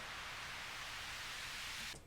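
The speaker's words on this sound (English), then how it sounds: "it's just a white noise sweep" A synthesizer produces a white noise sweep: a steady, fairly quiet hiss that holds evenly for about two seconds before cutting off abruptly.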